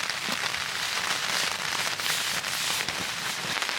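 Dense, steady patter of rain drumming on a taut tent overhead while backpacking in the Vancouver Island mountains, close and continuous with no pauses.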